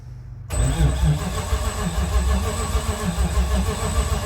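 A Nissan VK56 V8 swapped into a vehicle cranks and catches after a short moment of quiet, then runs with a loud, close, steady rough engine roar and a high whine, with no voices.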